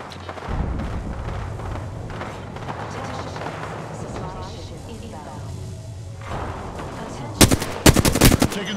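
Gunfire in Apex Legends, dense game audio with a voice calling out in the game, ending in loud rapid bursts of automatic fire close up.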